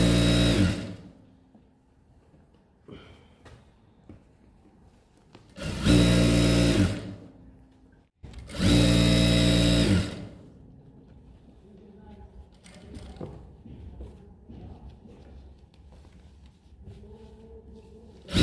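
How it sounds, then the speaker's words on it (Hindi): A sewing machine stitching over elastic on a plazo waistband runs in two loud, steady bursts of whirring a few seconds each, close up, with quiet handling sounds and someone talking between the bursts. "आपकी लास्टिक के ऊपर बिल्कुल सफाई से सिलाई लगेगी ऐसे।"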